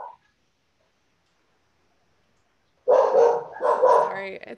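Dogs bark at the mailman after nearly three seconds of silence, a loud, close cluster of barks in two bursts near the end.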